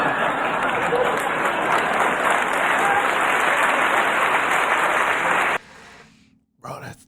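Loud, dense applause from a stand-up comedy audience rolls steadily for several seconds, then cuts off abruptly into near quiet with a brief burst of sound at the end.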